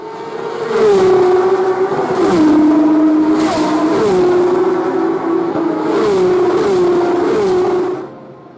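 On-board engine of a GT race car at Sebring International Raceway, with a Lamborghini passing: a loud, close, steady high engine drone with several gear-shift dips and rises, fading at the end.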